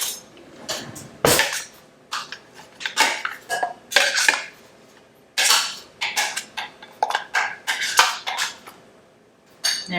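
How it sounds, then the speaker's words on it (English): A spoon scrapes pureed orange out of a blender bowl, making repeated clinking, scraping knocks against the container in uneven close bursts with brief pauses. "we'll take off our bowl here and just dump out our puree so far"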